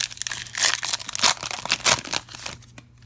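A Pokemon Breakpoint booster pack is torn open, giving a close run of crinkling foil and ripping bursts over about three seconds, busiest in the middle before trailing off.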